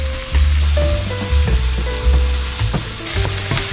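Onion and garlic sizzle loudly in a hot pan, frying steadily with bursts of crackle as they are stirred, close up and without talk.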